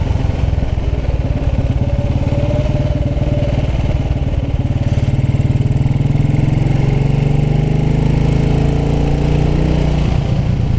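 A heavily tuned 1929 Ariel motorcycle being ridden along country lanes, its engine a loud, close, steady throb with rising and falling revs and no talking over it.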